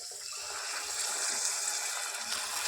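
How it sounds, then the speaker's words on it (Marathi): Hot water pouring into a pan of green pea masala, heard as a steady soft gushing wash that runs evenly throughout at moderate level. "आता यात मी गरम पाणी टाकते."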